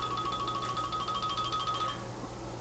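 A mobile phone rings with a repeating electronic melody, moderately loud over a low background hum, then cuts off after about two seconds.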